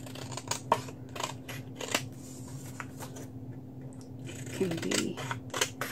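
Scissors snipping paper to trim a pocket for a handmade Victorian journal, several short, crisp cuts close by, with a person talking briefly over the work.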